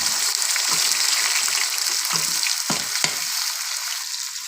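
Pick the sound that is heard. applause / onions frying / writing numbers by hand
onions frying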